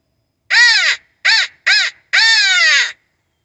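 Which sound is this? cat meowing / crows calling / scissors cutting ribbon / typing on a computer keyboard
crows calling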